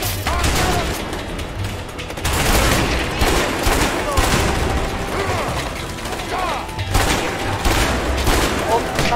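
Sustained gunfire in the video game A Way Out, with dense bursts of rapid shots and booms in repeated waves over several seconds, loud and close, with mechanical clatter between volleys.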